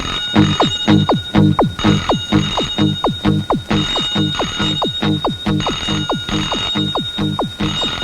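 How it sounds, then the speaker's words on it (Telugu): Telephone ringing indoors in a Telugu comedy family drama film: a bright, rapid bell trill repeated in regular bursts, loud and close, with no speech. "రింగ్ అవుతుంది ఆగిపోతుంది, రింగ్ అవుతుంది ఆగిపోతుంది"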